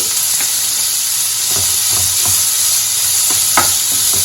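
Curry leaves sizzling in hot oil in a pan for Indian egg bhurji, a loud continuous frying hiss with a few soft stirring scrapes and pops, no talking.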